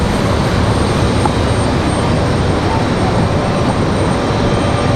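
A Republic Airways Embraer E175 LR jet arriving at Raleigh-Durham from JFK gives off a loud, steady, broadband roar that holds evenly for the whole stretch, with no voices over it.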